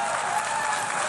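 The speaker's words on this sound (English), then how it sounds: "It's like just Israel cheering." A large crowd bursts into loud, sustained applause with cheering, a dense continuous wash of clapping from start to finish without pause.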